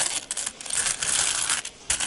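Coins clinking and rattling as they drop and shuffle together out of an old razor box, a quick cluster of bright metallic jingles, close and clear over about two seconds.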